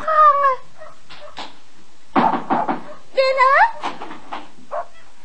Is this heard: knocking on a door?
yes